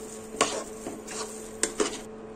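Ground moong dal paste is stirred in a pan, with a few scattered scraping knocks of the spoon against the metal over a faint steady hum.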